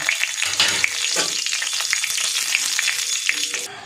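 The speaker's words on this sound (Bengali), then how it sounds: "দেখুন ফোড়নটা সুন্দর ভাজা ভাজা হয়ে গেছে, সুন্দর ভাজা মিষ্টি সেন্ট বেরোচ্ছে।" Whole spices (dried red chilli, cracked cardamom, cinnamon, cloves, cumin seeds and a bay leaf) fry in hot oil for a vegetarian tempering, giving a loud, steady close-up sizzle with faint crackles and occasional stirring scrapes throughout.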